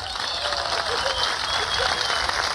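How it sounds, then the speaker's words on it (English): Crowd at an outdoor park comedy show applauding as a local comedian takes the stage, a loud continuous wash of clapping with cheering mixed in. "Please, a nice big round of applause, Bentoni"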